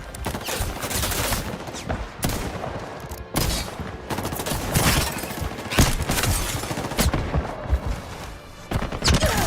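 Rapid gunfire from a shooting video game, dense bursts and volleys of shots with short gaps, loud and close, continuing throughout.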